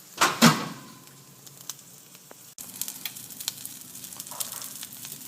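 Meatballs frying in a pan give off a soft, steady sizzle with light spatters, after a louder clatter and flare at the start as they are turned.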